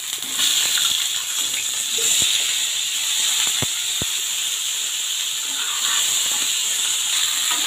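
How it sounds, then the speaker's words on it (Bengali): Potatoes fry in hot oil with bay leaf, whole garam masala and black cumin, making a steady loud hissing sizzle throughout with a few faint clicks, close and continuous with no talk. "আলুগুলো ফ্রাই করে নেব।"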